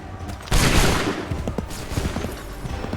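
Musket volleys crack out in Assassin's Creed 3 Remastered: a sudden loud burst of massed gunfire, followed by a rolling, crackling fusillade that gradually thins out.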